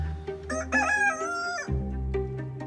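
A backyard rooster crows loudly and close by, one long strained cock-a-doodle-doo with harmonic layers rising and then dropping abruptly, followed by softer clucking from the bird.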